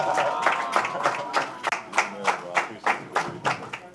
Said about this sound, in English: So another round of applause for Kid Chocolate,